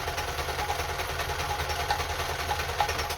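A Kenmore 10 Stitch sewing machine sews a close zigzag at a short stitch length with a steady, even mechanical whir and a fast repeating needle rhythm, heard close and fairly quiet with no voices.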